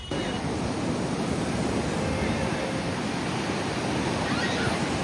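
Steady, dense rush of surf at Puri, India, filling the whole stretch, a constant broad roar of breaking sea waves with no voices and no pauses.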